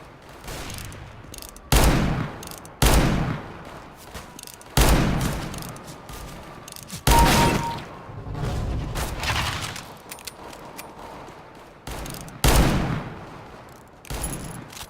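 Bursts of gunfire from a CS:GO deathmatch with the R8 Revolver, several separate loud volleys and sharp shots spaced unevenly across the stretch, over steady background game noise.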